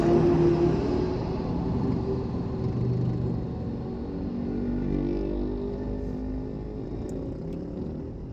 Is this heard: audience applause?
no